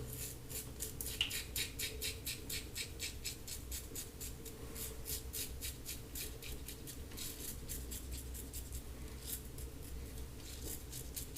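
Bakelite slant safety razor shaving stubble through a thin layer of lather, a steady close scraping rasp of rapid short strokes running continuously without talk.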